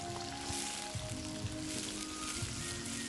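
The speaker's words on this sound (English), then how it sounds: "I'll throw in my onions and fry that for" Onions frying in vegetable oil, a faint continuous sizzle with soft crackles throughout the short stretch.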